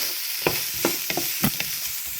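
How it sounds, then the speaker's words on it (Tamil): Carrots being sautéed and stirred in a pan for kottu roti, with a steady close sizzle broken by several sharp scraping stir strokes against the pan. "கரட்டும் போட்டு வதக்குவோம்."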